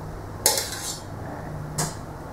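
Metal fork striking and puncturing cooked sweet potatoes in a pan, two distinct clinks about a second apart, close and crisp over quiet background hum.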